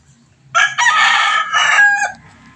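A rooster crows loudly and close by, one long crow with a brief break in the middle, over faint background noise.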